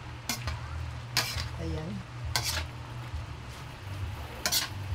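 Vegetables stir-frying in a pan for pancit bihon, a steady low sizzle broken by several sharp utensil scrapes and clinks, with a brief spoken word.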